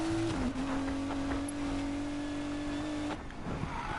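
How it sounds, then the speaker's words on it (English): A car engine in the Need for Speed Payback video game holds a steady high drone, with a brief dip in pitch early on and a drop-off near the end, loud and continuous with no talk. "Do love the sound of this car though, very cool, very realistic engine noises"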